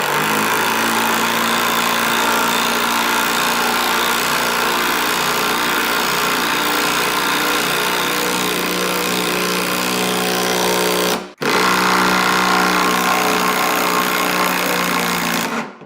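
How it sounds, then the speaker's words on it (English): A cordless impact wrench drives a 3/8 lag screw into a 2x4 with no pilot hole, hammering loudly and steadily for about eleven seconds, stopping for an instant, then starting again. "I want to run a 3/8 lag into this wood without a pre-drilled hole"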